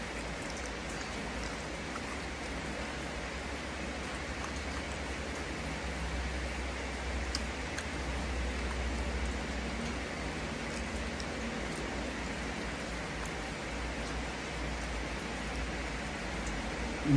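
Heavy rain pours down steadily, a dense, even hiss of drops hitting surfaces that holds unbroken and fairly loud throughout.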